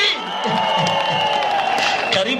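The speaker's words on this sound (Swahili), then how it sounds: "tupigie makofi" A crowd at an outdoor gathering cheers and claps for Oscar Sudi, a dense, loud burst of applause and voices filling the whole short moment.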